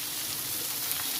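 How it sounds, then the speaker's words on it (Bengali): Chicken with spices sizzling and frying in a pan, a steady close hiss and crackle with no talk. "মশলাটা চারিদিকে মিক্স করে দেওয়া চিকেনটাকে ভালো করে কষিয়ে নিতে হবে।"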